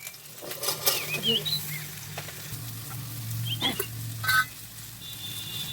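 Potato and ridge gourd vegetables go into a hot pan with nigella seeds and green chili, and oil sizzles and crackles in uneven bursts with a few stirring clatters, close up.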